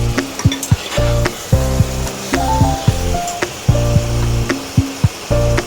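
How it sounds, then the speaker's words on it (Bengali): Spices are sautéed in a pan alongside meat, loud frying hiss repeatedly punctuated by rhythmic scraping strokes of a spatula, close and continuous. "মশলাগুলো দিয়ে দিয়েছি এবারে ভালো করে কষাবো"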